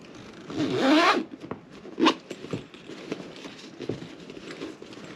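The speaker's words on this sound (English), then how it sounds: "So let's zip it up." A zipper is drawn closed on a finished sewn zip bag with a metal bag frame: one long rising zip stroke, then a second short pull and soft handling rustles, close and alone.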